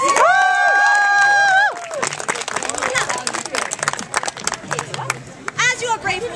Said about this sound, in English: Lords and ladies, a big round of applause for our volunteers!